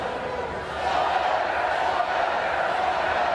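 Baseball crowd at a Red Sox spring training game, a dense distant roar of many voices singing together, swelling slightly and holding steady throughout.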